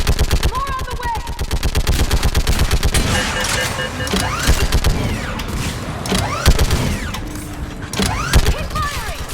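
Rapid automatic gunfire in a Mass Effect battle on Thessia, loud and close, sustained in dense regular bursts with scattered shots, while voices shout over the fire.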